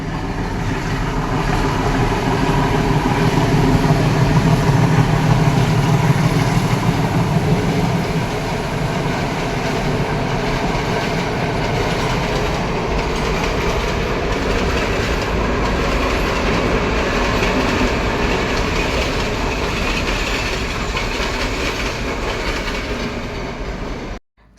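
Train passing near a beach in Colombo, a long, loud continuous rumble of rail cars with clickety-clack wheel noise, steady for over twenty seconds before cutting off abruptly.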